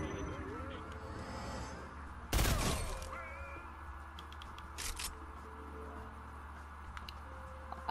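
A single loud, close gunshot bursts out partway through a Fortnite solos match, standing out sharply over a low, steady bed of game ambience, followed by a few fainter scattered clicks.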